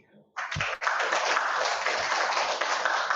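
Audience applause fills a lecture hall after a mathematics talk, a dense steady burst of many hands clapping that starts abruptly and holds evenly at full strength.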